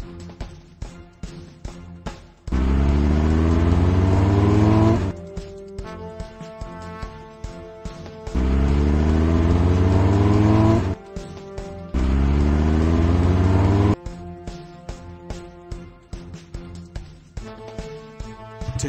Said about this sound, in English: click on each fire truck to help them roll out